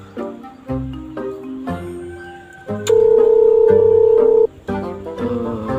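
A telephone being dialed: a run of short, loud electronic tones, then a long steady tone lasting about a second and a half, then more short tones, all close and clear.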